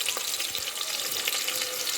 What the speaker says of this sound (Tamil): ஆனியன் வந்து நல்லா ஃப்ரை ஆகணும்